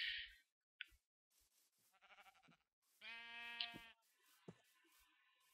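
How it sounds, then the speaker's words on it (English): A Minecraft sheep bleats in the game: a couple of quavering bleats amid short clicks and scattered game sounds, all fairly quiet. "Is that a sheep?"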